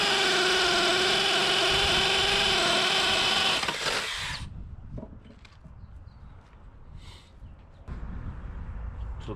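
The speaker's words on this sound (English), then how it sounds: "So we're going to take a 7/8 wood bit," Power drill boring through with a 7/8 inch wood bit while core drilling porcelain pavers for recessed lighting, a loud steady whine for about four seconds, then stopping, leaving quieter handling noises.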